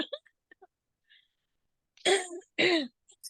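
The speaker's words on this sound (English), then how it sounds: "Now I'm having a coughing fit." Two loud, harsh coughs burst out close by after a stretch of faint, scattered sounds and near silence.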